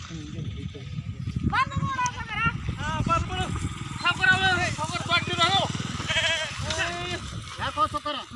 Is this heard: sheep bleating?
yes